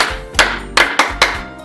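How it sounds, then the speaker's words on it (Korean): Congregation at a youth Sunday worship service clapping in unison, five sharp, loud claps in a steady rhythm, close and distinct with short gaps between them. "우리 박수 5번만 치고 예배를 시작하도록 하겠습니다."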